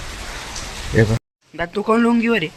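Rain falls outside as a steady broadband hiss for just over a second, then cuts off before people begin talking.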